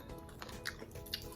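Fried chicken and potato being chewed up close, soft wet mouth sounds and small squishy bites spread across a short quiet stretch.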